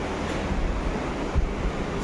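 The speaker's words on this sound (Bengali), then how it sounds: "তাতে কি হাওয়া" Strong wind buffets the microphone beside the Ramganga river, a loud low rumbling gust with brief surges, no speech.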